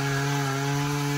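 A chainsaw runs at steady high revs as it cuts through wood, a loud, continuous buzzing drone that stays close and unbroken for the whole short stretch, with no talking.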